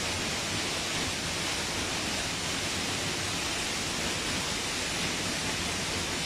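Wildensteiner waterfall roars as a dense, continuous rush of falling water, loud and close, unbroken throughout with no voices.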